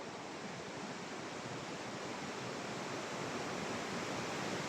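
A river rushing near Wawa Dam, a constant broadband roar of flowing water, steady and unbroken throughout with no voices.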